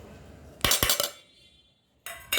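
A spoon mixing bhel with chutney and salt in a bowl, heard as a quick cluster of close scraping clinks, a pause with faint background, then another brief burst of clinking.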